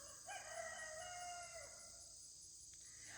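A chicken gives a drawn-out, wavering call near the start, faint and fairly distant, with a steady high-pitched hiss of background noise throughout.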